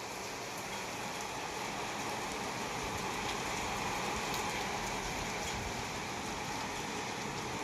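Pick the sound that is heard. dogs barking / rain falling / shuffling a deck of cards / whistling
rain falling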